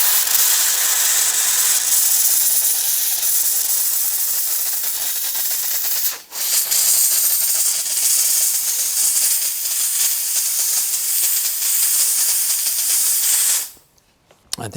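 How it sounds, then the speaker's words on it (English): Steam hissing steadily into a wood glue joint on a piece of furniture, a loud continuous broadband hiss lasting many seconds with one brief break midway before cutting off near the end. "I think I see the steam going through the other side"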